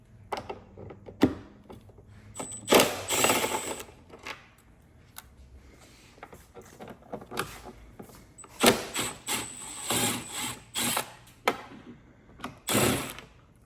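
A ratchet with an extension works loose four Torx T27 bolts on a 2024 Road Glide, giving bursts of rapid clicking and scraping in several separate spells, close and clear.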